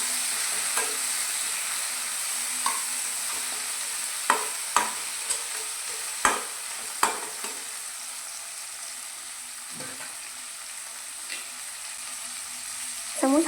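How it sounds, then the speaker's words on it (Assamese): Tomato with ginger and garlic fries in a pan over a medium gas flame for an Assamese fish curry, giving a soft, steady sizzle broken by scattered clicks and scrapes of stirring. "এতিয়া গেছৰ ফ্লেমটো মিডিয়াম কৰি বিলাহীটো গলি যোৱালৈকে এইখিনি এবাৰ ফ্ৰাই কৰি ল'ম"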